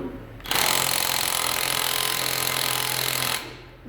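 A Matco Tools 16V 3/8-inch cordless electric impact gun removing lug nuts, one loud, steady hammering burst of about three seconds, close up and alone.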